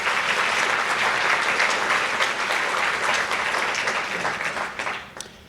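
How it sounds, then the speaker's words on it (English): Warm applause from the audience at the United Way of Greater Plymouth County annual meeting, a dense steady clapping that carries for several seconds, then thins to a few last claps and fades out. "please a round of applause for everything Carol has done"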